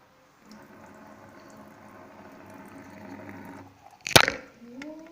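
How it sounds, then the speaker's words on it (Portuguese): Water is poured into a small bottle in a steady, gurgling trickle that runs for a few seconds, followed by a sharp clack and a brief rising fill tone. "Então eu vou colocar água."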